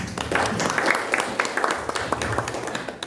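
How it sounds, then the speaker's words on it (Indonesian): Students and guests at an elementary school farewell ceremony give a scattered round of clapping, with individual claps standing out over a modest, uneven patter that stays moderate throughout. "Tepuk tangan."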